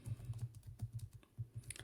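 Someone typing a prompt on a computer keyboard, a quick run of crisp, close key clicks in an uneven rhythm with brief pauses, no voices.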